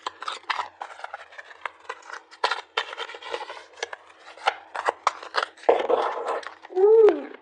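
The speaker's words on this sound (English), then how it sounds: "These are so slippery, but I will take that as it is time to stop shuffling." Slippery tarot cards riffled and slid together in the hands, a series of soft rasping shuffles and taps that ends with a brief flurry, close by with no talking.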